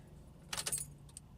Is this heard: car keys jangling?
yes